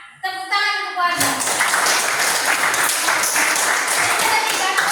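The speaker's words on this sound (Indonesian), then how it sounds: "Tepuk tangan untuk warga." A classroom of children breaks into applause after a brief sung or chanted tone, loud dense clapping filling the room close by with children's voices mixed in.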